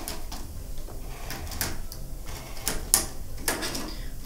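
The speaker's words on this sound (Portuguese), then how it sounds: "Então, destravo, venho aqui e corto o meu círculo." A rotary blade cutter slicing a fabric circle from jeans, heard as a series of short, close scraping clicks and cuts spaced irregularly over a few seconds, with no talking.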